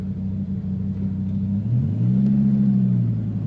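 A 2001 Dodge Viper GTS supercharged coupe engine rumbles steadily, then its pitch climbs as it revs up and holds a deeper, louder growl.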